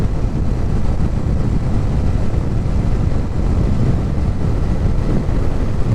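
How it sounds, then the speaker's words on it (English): Steady, loud wind roar buffets the microphone while riding a motorcycle, a dense unbroken rush with low rumble throughout and no talking. "I'm riding a motorcycle"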